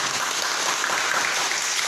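A classroom of students claps together in a brief, loud, even burst of applause.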